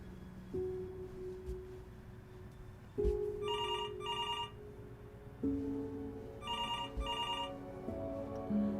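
A telephone rings in the Before Your Eyes video game, with two ring bursts in pairs of trills, clear and alone over soft sustained music tones.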